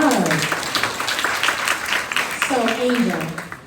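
A live-conversation audience gives a short round of applause, steady clapping running the whole moment, with voices and talking layered over it.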